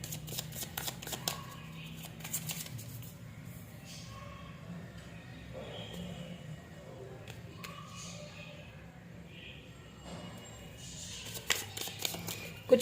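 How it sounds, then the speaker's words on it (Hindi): Tarot cards are handled, shuffled and drawn in a quiet room, giving soft papery riffles and light taps in short bursts, with a low steady hum underneath. "मैं कुछ और कार्ड्स भी देखूंगी"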